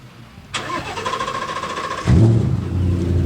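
A Mitsubishi L200 rally truck from the Rally dos Sertões, fitted with a Mustang V8, fires up with a sharp burst and then settles into a loud, lumpy, throbbing idle close by.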